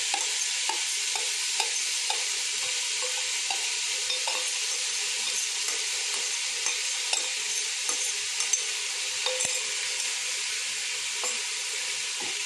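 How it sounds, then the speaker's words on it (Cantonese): Garlic and onions stir-fry slowly over low heat in olive oil, a steady soft sizzle running throughout with regular light scrapes and taps of a spatula or spoon against the pan. "慢火跟住慢慢炒佢，等佢啲蒜蓉同埋洋葱咧嗰啲味道咧揮發出嚟"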